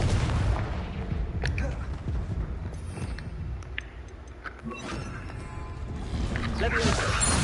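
Confringo explosion spell fired in the Hogwarts Legacy video game: booming blasts and mechanical crackles over dense, loud game noise, with a quieter lull in the middle before the din swells again.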